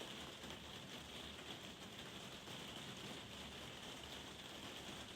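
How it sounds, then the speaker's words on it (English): Heavy rain pours down outside, a steady, dense hiss of drops on surfaces that stays even and continuous throughout, faint and distant as if heard from indoors. "Outside, the rain is pouring down, and its sound fills the quiet of the room"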